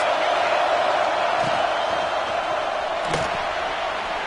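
Stadium crowd at an Alabama football game roaring steadily through a big third-down defensive play, a dense continuous wall of cheering with a brief sharp thump partway through.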